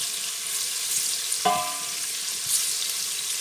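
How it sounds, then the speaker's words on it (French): Onions cook in oil close by, giving a steady soft sizzle with one brief metallic clink from a utensil partway through. "Vous faites cuire vos oignons."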